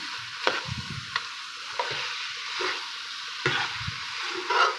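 Arbi (taro root) and baingan (eggplant) stirred into frying masala in a pan, a steady low sizzle with repeated scraping spoon strokes roughly every second, close and alone without talk.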